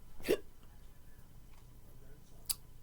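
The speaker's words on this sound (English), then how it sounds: "Hiccup out of the blue." A single sharp hiccup comes from a person, brief and close over quiet room tone, followed by a faint click a couple of seconds later.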